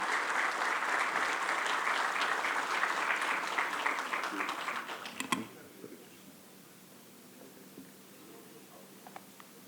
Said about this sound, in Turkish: Lütfen alkışlarınızı arz ediyorum